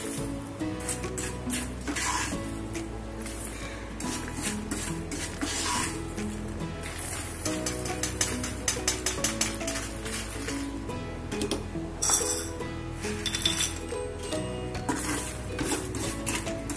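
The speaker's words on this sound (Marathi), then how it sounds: "आता आपण हे चाळून घेऊया, म्हणजे मीठ खाली राहील." Roasted fox nuts (makhana) are shaken in a sieve to shake off the salt, making a continuous close, light rattling and scraping with small metallic clinks and no voices.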